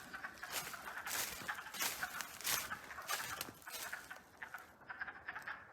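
A dense chorus of frogs croaking at a small pond in the woods, busy and continuous with overlapping rapid calls, fairly distant and steady until it thins near the end.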